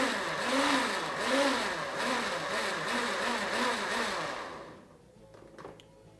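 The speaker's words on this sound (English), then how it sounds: "we're just going to move that up here to the blender and we're gonna just juice that a little bit" A kitchen blender whirs loudly as it juices coconut water, its motor pitch rising and falling in repeated surges. After about four and a half seconds the motor cuts out, leaving faint rattles.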